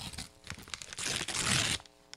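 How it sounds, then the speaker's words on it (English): Sheets of paper notes are crumpled by hand close up, a busy crackling and rustling that swells to a sustained crunch, then drops away to a few soft crinkles. "crumple that up and throw it away."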